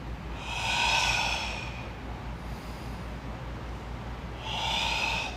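Slow, deep breaths during a movement exercise, a long audible inhale then a drawn-out exhale, a pause, and another breath starting, close and alone.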